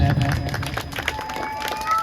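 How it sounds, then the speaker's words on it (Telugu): An audience at a children's Bala Gokulam Gita Jayanti event claps for a participant with a brief burst of scattered applause, loud and close, with voices mixed in. "క్లాప్స్."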